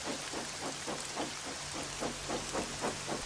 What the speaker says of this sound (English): Percy pressed bravely through the storm, fighting the wind and torrential rain.